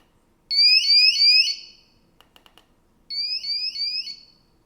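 Tapo T300 smart water leak detector alarm sounding two loud bursts of rapid high-pitched chirping beeps, separated by a short gap with faint clicks, no talking.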